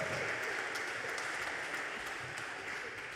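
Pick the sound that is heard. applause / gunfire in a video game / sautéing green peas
applause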